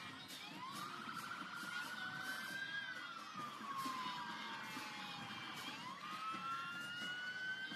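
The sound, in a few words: police car sirens in a night parade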